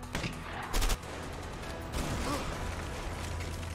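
Enemy gunfire in the video game A Way Out, a brief burst of rapid shots followed by a second broad crackling volley over a steady background rumble.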